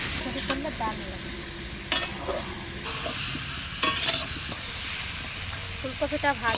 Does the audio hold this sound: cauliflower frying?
yes